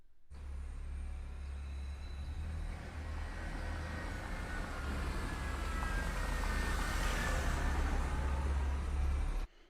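A car sound effect from an animated short film: a steady, low motor rumble that builds slightly with a faint whine, fairly quiet and heard alone before cutting off abruptly.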